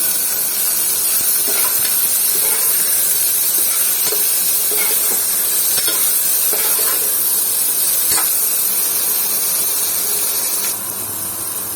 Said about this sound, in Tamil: வெங்காயம் தக்காளி வதங்கிடுச்சு.